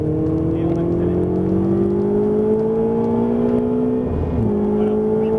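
A Ferrari 488 on a race track pulls hard, its engine note a steady rising drone heard from inside the car, with a brief dip near the end.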